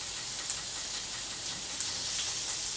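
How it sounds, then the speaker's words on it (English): Steady, loud sizzling from chicken frying in a hot pan, a continuous hiss with a couple of small pops. "And you hear that sizzle?"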